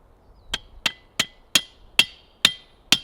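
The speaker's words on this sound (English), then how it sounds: "There is an actual tool for this, but we got a sledgehammer." A sledgehammer drives a metal T-post into the ground with seven sharp, ringing metallic strikes at a steady rhythm of about three per second, close and loud with no other sound.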